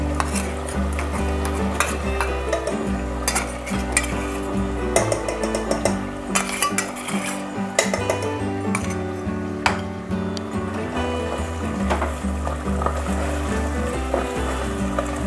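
Mutton korma being stirred in a pan over medium flame with fried onion paste added, a steady sizzle under repeated scraping and clinking of a spoon against the pot, continuous and close.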